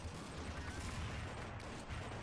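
Dense, continuous gunfire from Counter-Strike 1.6 on the de_dust2 map, a steady loud rattle of rapid shots with no pauses throughout.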